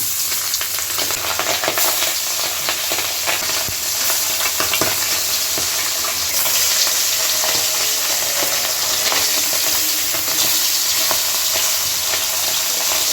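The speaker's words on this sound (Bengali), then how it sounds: "তেল গরম হয়ে গেছে, এখন মাছগুলো ছেড়ে দেই।" Salted, turmeric-rubbed tengra fish fry in hot oil in a wok with a loud, continuous hissing sizzle, dense with spattering crackles throughout.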